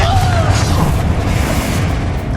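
A booming blast from the Confringo spell in Hogwarts Legacy, a loud, sustained rumbling explosion filling the whole moment, with a voice faintly mixed in.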